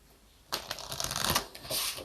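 Oracle cards being shuffled close by, a burst of quick riffling and slapping that starts after a brief quiet moment and continues steadily.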